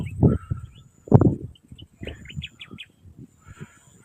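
A bird calls with a few bright, chirping notes at a moderate distance, mixed with low rustling and scattered outdoor noise.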